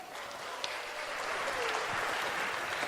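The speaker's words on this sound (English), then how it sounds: "Let's have a cheer for Jenny." Church congregation applauding at an Easter Sunday service, a steady patter of many hands clapping at moderate volume for the whole stretch.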